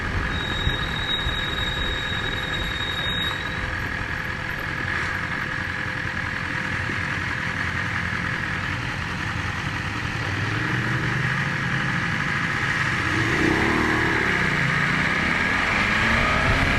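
A 2020 BMW S1000RR sport motorcycle runs steadily on a dyno, its engine holding a constant high-pitched drone with a brief rising rev near the end, loud and close, with no talking.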